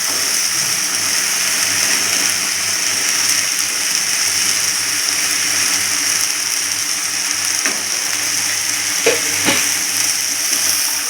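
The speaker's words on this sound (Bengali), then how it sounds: "আলুগুলো আবার একটু ভাজবো।" Potatoes and cauliflower frying in a pan give a steady, loud sizzle with a few brief stirring scrapes and clicks, and no talking.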